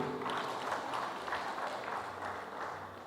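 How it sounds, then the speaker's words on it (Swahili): An audience at a staff farewell ceremony claps steadily throughout, a dense continuous patter of applause heard from within a moderately quiet hall. "niombe hadhira hii tujipigie makofi sote kwa kurudisha utamaduni wetu huu"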